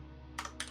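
Computer keyboard typed on during Rust coding, two quick key presses in a short burst, close and fairly quiet over a low steady hum.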